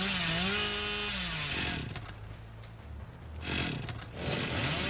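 Billy's chainsaw in Dead by Daylight roars close and loud, a revving whine that rises and dips in pitch before settling into a sustained grinding buzz with brief surges.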